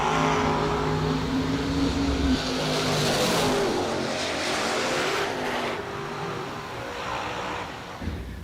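Drag race cars launch down a drag strip at a bracket racing event, a loud, dense engine roar that holds steady for several seconds and then eases slightly, with no voices over it.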